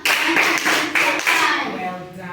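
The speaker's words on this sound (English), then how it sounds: "let's clap for Azmina. A nice clap. And another one." A small group clapping for a child during a church pastoral programme, a few short bursts of claps that fade out toward the end, close and fairly loud.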